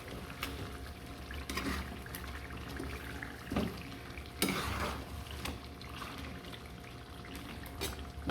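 Chicken being stirred in a pot while cooking for morog polao, with intermittent scraping and clattering of the spoon over a low sizzle, close and moderately loud.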